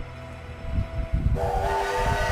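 Train whistle in the video game Sniper Elite V2, a sustained tonal steam-style blast that swells in partway through over a rumbling, hissing background, fairly close and loud with no talking.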